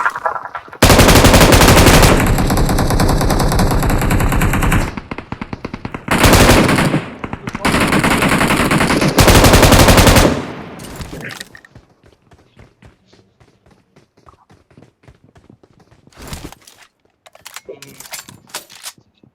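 Gunfire in a video game: long loud bursts of automatic machine-gun fire in several runs, then quieter scattered taps and shots toward the end.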